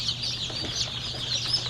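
Day-old pullet chicks in a batch, giving soft overlapping high-pitched peeps and chirps that run steadily and close by, with no talk over them.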